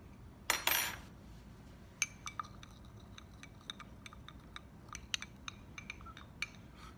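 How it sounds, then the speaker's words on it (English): Magnesium oxide powder is stirred in a glass beaker, making sharp, light clinks as the rod taps the glass. Two louder knocks come first, then an irregular series of ringing taps, close and quiet, with no voices. "So I'm going to stir this until all the metal has reacted"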